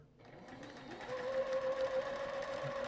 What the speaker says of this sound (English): get yourself a good sewing machine that can sew a 1/4 inch seam